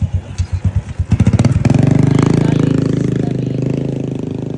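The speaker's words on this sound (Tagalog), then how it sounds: "Marami talaga yung motor." Motorcycles pass close by on a provincial town street in the Philippines, one engine putting rapidly then swelling into a loud steady drone before easing off as it moves past.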